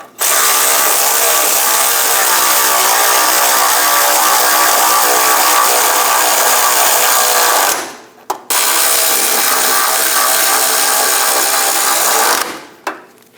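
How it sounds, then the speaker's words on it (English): A power tool whirs continuously and loudly while snugging the idler arm bracket bolts on a Chevrolet Express 2500 van, running for about eight seconds, pausing briefly, then buzzing again in a second long burst before stopping. "Snug down the idler arm bracket bolts."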